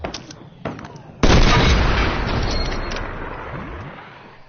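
Sniper rifle fired in a shooting game: after a few faint cracks, one loud, sharp blast lands and a long rumbling echo rolls off slowly over several seconds.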